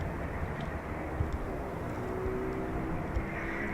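An RAF Eurofighter Typhoon FGR4 doing an evening touch and go at RAF Coningsby gives off a steady, broad jet roar, fairly distant and unchanging through the moment.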